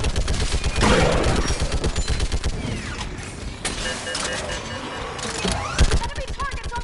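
Sci-fi weapon fire in the video game Mass Effect Legendary: rapid, steady rhythmic shots rattle through most of the clip, close and loud, mixed with mechanical clanks and whirring sounds.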